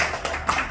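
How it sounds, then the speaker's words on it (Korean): A church congregation claps together in applause, a brief burst of scattered hand claps at moderate volume. "집사님께 큰 박수로"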